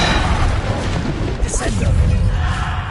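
A loud spell blast from the video game Hogwarts Legacy, the Bombarda explosion booming with a sharp burst and rumbling debris, while a voice talks over it.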